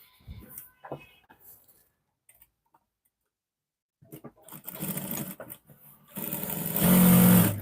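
A sewing machine stitches a Bubu gown, starting with scattered ticks and short bursts, then running in a steady, rising rhythmic whir close by before settling into a loud continuous drone.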